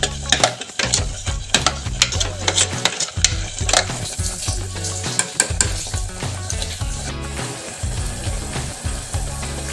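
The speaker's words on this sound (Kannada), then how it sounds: "ಈಗ ಒಂದೊಂದೇ ಮಸಾಲ ತೋರಿಸಿದ್ನಲ್ಲ ಅದನ್ನ ಆ್ಯಡ್ ಮಾಡ್ತಾ ಇದ್ದೀನಿ ಇದು ಸ್ವಲ್ಪ ಎಣ್ಣೆ ಬಿಡೋವರೆಗೂ ಹುರ್ಕೊಬೇಕು" Spice masala frying in oil for aloo matar curry sizzles loudly while a spoon scrapes and clinks against the pan in repeated sharp strokes, up close.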